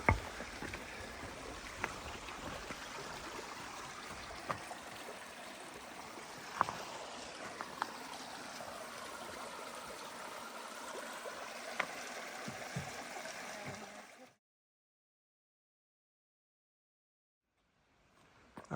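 Lynn Camp Creek runs along an Appalachian Trail section in Virginia with a faint, steady rush of flowing water, a few small knocks, then near silence before a brief return at the end.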